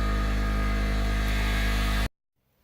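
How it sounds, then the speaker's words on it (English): Air compressor running in a garage, a loud steady droning hum with strong low rumble that holds constant for about two seconds, then cuts off abruptly into near silence. "Sorry about all the compressor noise."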